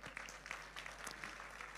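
Scattered clapping from an audience in a hall for Brother Destiny, faint and uneven, with a few sharper claps standing out over a thin wash of hand noise.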